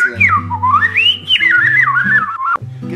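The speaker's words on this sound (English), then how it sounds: "whistling," A person whistles a wandering, sliding tune alone, loud and close, with the melody rising and falling over about three seconds before cutting off sharply near the end.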